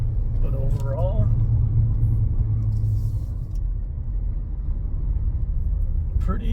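A 2024 Mazda CX-5 SUV drives a winding canyon road, its engine and tire rumble steady and loud from inside the cabin while a person talks over it.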